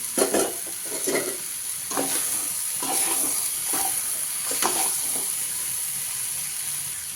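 Green gram usli with grated coconut being stirred in a pan: repeated scraping strokes of a spoon against the pan over a faint sizzle, close and clear, easing off toward the end.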